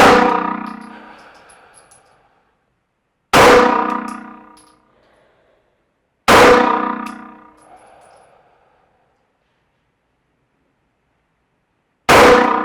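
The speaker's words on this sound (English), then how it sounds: "So I'm just gonna do 10 shots that go, okay, how do I get grip, sights, trigger, make sure everything is right, take my time." Gunshots at a shooting range, four loud single reports spaced a few seconds apart, each with a sharp attack and a ringing decay that fades into quiet.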